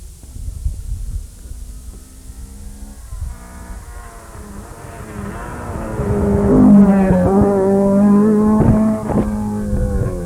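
A Talbot Sunbeam rally car, number 41, on a Cork 20 Rally stage: its engine starts distant and low, then swells to a loud revving drone with climbing gear pitches as it nears and passes.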